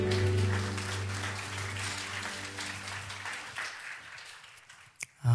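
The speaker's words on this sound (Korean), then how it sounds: "하나님 아버지께 영광과 박수 올려드리겠습니다" A church congregation applauds in praise to God, broad steady clapping over a lingering held organ or keyboard tone, fading gradually before a brief knock and a voice starting.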